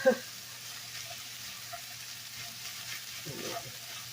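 Ground beef browning in a pan for a Bisquick cheeseburger pie gives a low, steady sizzle throughout, with a soft utensil clatter near the start and faint scraping toward the end.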